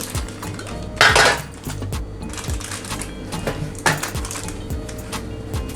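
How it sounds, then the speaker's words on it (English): Foil-wrapped fish set down on a metal baking tray, giving several clattering, clinking metallic knocks and rustles in an irregular sequence, fairly close and alone. "I'm going to go ahead and place them on my baking tray here"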